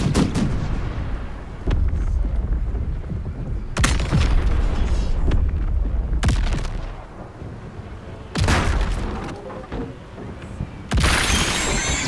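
Gunfire in Baldur's Gate 3, with heavy, booming shots recurring every few seconds over a dense, rumbling battle background, loud and close.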